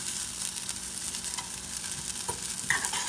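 Rice frying in a pan for green rice with poblano chile while being stirred until golden, a dense, steady hissing sizzle with a few soft scraping stirs, close and continuous.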